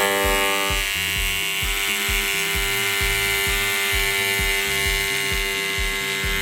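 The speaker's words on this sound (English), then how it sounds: "That right there is literally just with one pass of the shaver." Electric shaver buzzing steadily while trimming tufted rug pile, with a rhythmic pulsing as it glides back and forth in close, continuous strokes.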